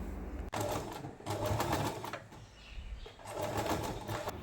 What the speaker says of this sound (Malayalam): അപ്പം ഞാൻ ഇതിങ്ങനെ വെച്ചിട്ട് സ്റ്റിച്ച് ചെയ്തെടുക്കുവാണ്